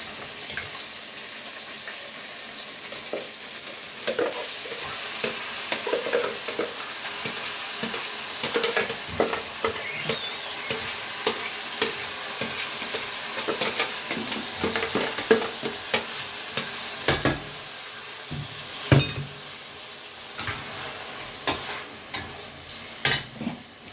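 A spoon stirs and scrapes tomato paste sizzling in a pan for kadai chicken, with steady close frying hiss under repeated irregular scraping strokes that grow sharper toward the end.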